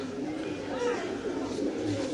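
A silver pigeon, one of a breeding pair kept in a loft, coos softly in low repeated murmurs close by, with someone talking over the sound and other birds faintly audible in the background.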